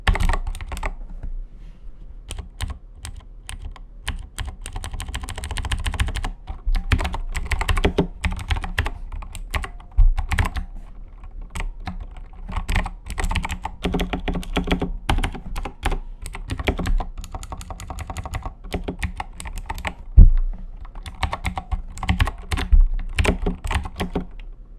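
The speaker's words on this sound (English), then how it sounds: "just a little taste of what the keyboard sounds like" Fast, steady typing on a Razer BlackWidow X Chroma mechanical keyboard, with dense clicky keystrokes close up and continuous for the whole stretch, with no talking.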